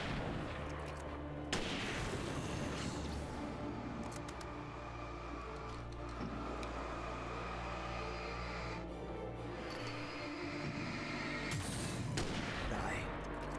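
Rifle gunfire from the video game Alan Wake, a dense run of shots and blasts spread across the whole stretch at a steady, loud level, with game noise layered underneath.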